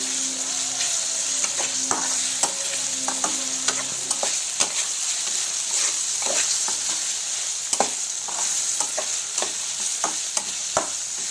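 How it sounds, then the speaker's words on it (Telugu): Ginger garlic paste sizzles steadily in hot oil for a prawn curry tempering, with a constant fry hiss and repeated quick scraping clicks from stirring, close up and without talk. "వేసి మొత్తం కలిసేటట్టు మొత్తం మిక్స్ చేయండి."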